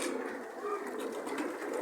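Racing pigeons coo softly inside a loft, a steady low murmur of several birds close by, with no voices over it.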